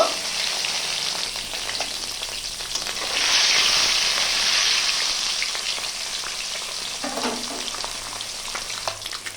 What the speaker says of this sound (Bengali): এরপর আমি গরম তেলে দিয়ে দিচ্ছি ডিম। আমি ভালো করে ভেজে নেব।